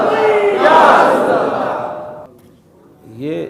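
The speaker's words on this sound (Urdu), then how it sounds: "یہ نعرے ہی ہے" Large crowd at a religious rally in Pakistan roaring a slogan together, loud and dense at first and then fading, followed by a single voice calling out briefly at the end.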